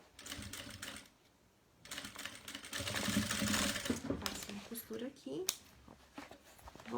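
A domestic sewing machine stitches a seam on a toiletry bag, a steady mechanical whir in bursts with short pauses, heard alongside someone talking.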